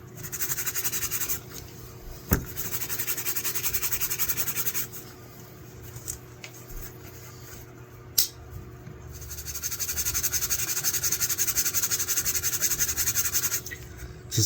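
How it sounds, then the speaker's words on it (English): Rust spots being rubbed off the tools of a classic scout knife, a steady, close scratchy rubbing that runs for long stretches, pauses, then resumes, with a couple of sharp clicks and no talking. "So I'm going to go through each tool and just give them a quick rub and get rid of"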